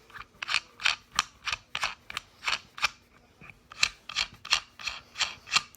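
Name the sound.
screws being screwed into a subwoofer box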